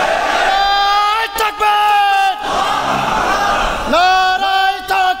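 A large political rally crowd roars back in unison, with loud sustained chanted shouts in two waves separated by a brief lull.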